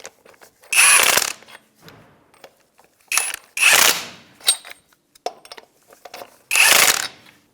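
A hand ratchet snugs up locking lug nuts on a 1992-1996 Ford F-150 wheel, giving three close bursts of rapid clicking separated by pauses and a few lighter scattered clicks.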